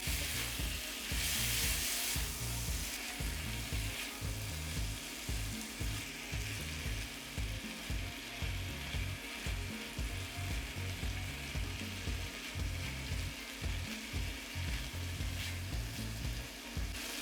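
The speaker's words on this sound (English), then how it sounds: "you're gonna constantly stir in the pot." Spicy Jamaican pepper shrimp sizzles and fries steadily in a pot while being stirred constantly, a continuous loud crackle with a rhythmic scraping pulse throughout.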